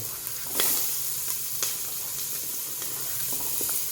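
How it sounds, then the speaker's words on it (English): Onion drops into hot rendered bacon grease and gives a steady, close frying sizzle with scattered sharp pops and crackles, and no one speaks. "First we're going to put the onion in"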